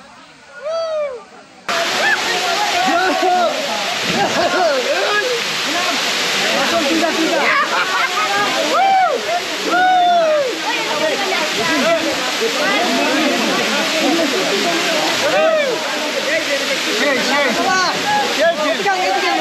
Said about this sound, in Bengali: আমরা চলে আসছি সেই খৈয়াছড়া ঝর্ণা।